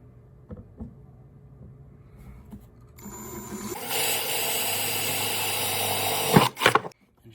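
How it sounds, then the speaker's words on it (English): A power drill bores a 3/8 inch hole through the lid of a Boost auto charging pad, a short whine ramping up and running steadily for a few seconds before cutting off abruptly, after quiet handling noises. "That's where we're going to be drilling our 3/8 hole."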